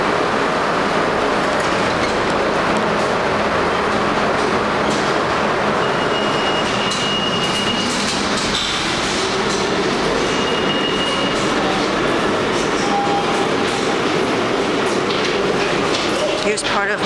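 A shuttle train rumbles steadily along the rails in an urban setting, with a constant close roar and occasional faint squeals and tones throughout.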